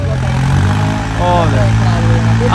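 A tractor engine runs at a trolley-pulling competition in Matti village, a steady low, throbbing drone that holds throughout with people talking over it.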